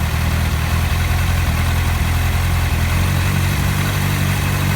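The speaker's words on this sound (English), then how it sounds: "you listen to the throttle idle go up" A 2005 Honda CBR600RR motorcycle engine idling after a throttle idle adjustment, a loud, steady, close-up rumble with no talk.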